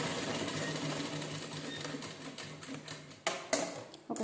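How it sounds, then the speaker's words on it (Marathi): Close, steady whirring of a sewing machine stitching a folded strip on a back-neck hook blouse, running evenly before a few sharp clicks and knocks near the end. "त्याच्याने शिलाई करून घ्यायची एकसारखी."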